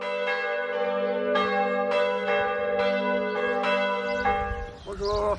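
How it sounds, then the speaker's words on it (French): Three church bells ring in a lively repeating full peal, strong clear strikes overlapping and sustained, before the ringing gives way to murmuring voices near the end. "je joue le plénum, c'est-à-dire la sonnerie des 3 cloches à la volée"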